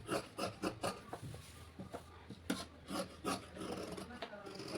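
Rhythmic scraping and crunching strokes of scissors cutting through blouse fabric on a hard table, repeated every half second or so, close up, with no talk.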